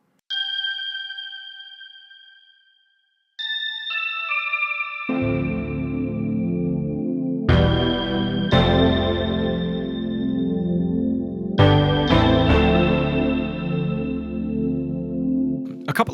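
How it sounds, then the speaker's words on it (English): Bell-like synth patch from a Roland Juno-106, sustained chiming tones with decaying tails, then layered chords and low pad notes entering, several struck notes ringing with echoing effects, loud and alone. "The next key sound that comes in is this little bells patch that I found in the Juno 106."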